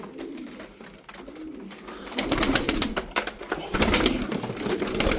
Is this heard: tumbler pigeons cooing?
yes